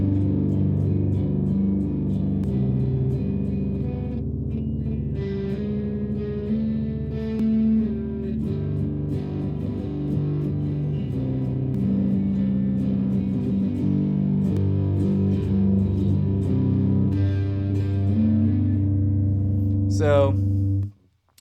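Electric guitar played through a distortion pedal with the treble turned up, a sustained, buzzing chordal tone with bright upper harmonics, loud and steady for about twenty seconds before a sharp high squeal and abrupt cutoff.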